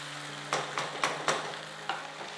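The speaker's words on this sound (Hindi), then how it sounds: "2 टीस्पून ऑफ जिंजर गार्लिक, करते हैं इसे सोते।" Ginger garlic paste sautéing in a pan for chicken nihari, a soft steady sizzle broken by several sharp spoon scrapes and stirs, close and clear.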